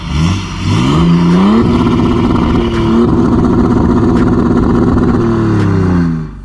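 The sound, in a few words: BMW diesel exhaust revving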